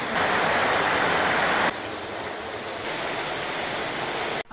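Steady rain pours down in a dense, hissing wash, easing a little partway through before cutting off abruptly.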